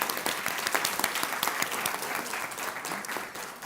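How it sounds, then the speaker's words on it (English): Audience applause at a North Carolina food-access forum, dense broadband clapping with sharp individual claps standing out, loud and sustained for several seconds with no talking over it. "Bigger round of applause."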